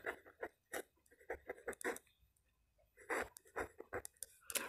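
A pen writes on paper in short scratchy strokes up close, the bursts quiet and irregular with brief gaps, alone with no speech.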